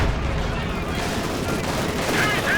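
In a Company of Heroes 2 battle, dense gunfire and blasts pound a Panzer IV tank, a loud continuous barrage of overlapping shots and impacts.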